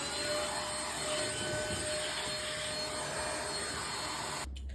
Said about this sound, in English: the vacuuming was short-lived